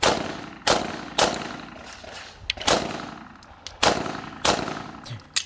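Pistol shots at an IPSC shooting competition crack out loud and close, about eight sharp reports in an uneven rhythm with short gaps between bursts, each trailing a brief echo.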